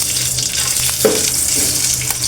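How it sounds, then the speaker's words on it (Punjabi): Tadka tempering frying in ghee in a thin kadhai over a gas flame, a loud, steady, close hiss of sizzling with a brief crackle partway through. "ਤੜਕਾ ਬਹੁਤ ਛੇਤੀ ਇਹਦੇ ਵਿੱਚ ਭੁੱਜ ਜਾਂਦਾ ਆ"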